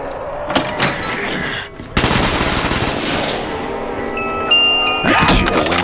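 Rapid automatic rifle gunfire in Black Ops 3 Custom Zombies, loud sustained bursts with short gaps and a final burst near the end, plus small ringing game chimes in between.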